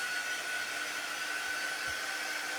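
Hair dryer blowing on a cardboard craft, a steady loud whooshing hum with a constant whine running unbroken throughout, close and alone.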